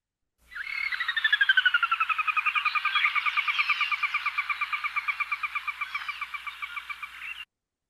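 A Sora gives its whinny call: a long, loud, descending series of rapid whistled notes close by, slowing and fading slightly over about seven seconds, with no other sound.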